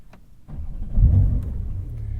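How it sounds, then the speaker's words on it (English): A 2021 Porsche 911 Turbo S engine cranks and fires up with a deep rising roar, then settles into a low, steady rumbling idle close by. "Before we actually start the engine"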